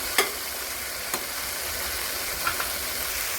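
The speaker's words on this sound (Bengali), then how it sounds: "আর একটু ভাজবো মশলাটা" Spice paste for a singhi fish curry frying in oil in a pan, a steady soft sizzle with a few faint clicks of stirring, close and even throughout without speech.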